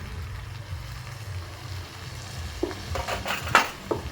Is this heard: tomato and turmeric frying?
yes